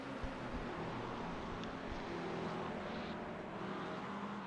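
BMW GT3 race cars lap Spa in a racing video game, a continuous, fairly faint engine drone that holds steady throughout with no clear passes.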